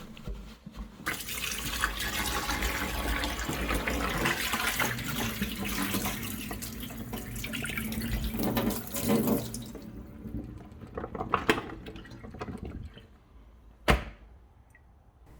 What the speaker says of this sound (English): dab the oil off with a kitchen towel tissue and wash away